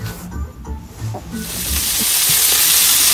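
Food sizzling in a hot pan while mushroom bharta and shrimp bhuna are cooked, a steady hiss that swells louder and brighter after a quieter start with a few faint clatters.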